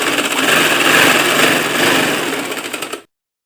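A sewing machine stitches the folded bottom hem of a simple frock, running loud and continuous with a fast, even whir for about three seconds before stopping abruptly.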